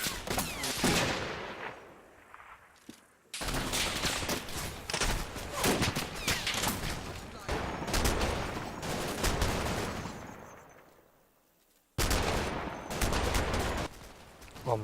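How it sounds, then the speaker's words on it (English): Dense battlefield gunfire in a Combat Mission wargame: sustained bursts of rifle and machine-gun fire with rolling volleys, loud and continuous, briefly dropping away before the shooting resumes just as heavily. "My snipers engage, and it's not long before my pickets come under heavy fire"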